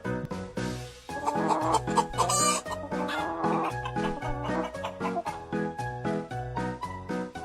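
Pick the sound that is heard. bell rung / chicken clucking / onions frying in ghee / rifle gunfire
chicken clucking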